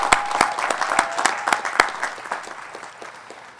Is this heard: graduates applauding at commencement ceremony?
yes